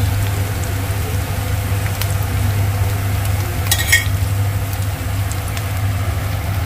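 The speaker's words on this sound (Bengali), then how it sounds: "এবারে দেখি একটু নেড়ে নেব" Ginger-garlic paste frying in a pan for a restaurant-style chicken curry gives a steady low sizzle, broken by a single spatula scrape partway through, close up with no voices.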